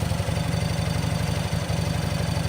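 A motorcycle engine idles with a fast, even low-pitched chug, loud and close, with no voices.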